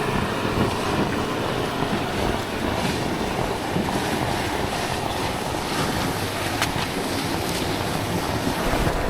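A natural-pressure hot spring geyser at San Kamphaeng shoots water nearly ten metres high, giving a loud, continuous rushing roar of spray mixed with wind buffeting the microphone throughout.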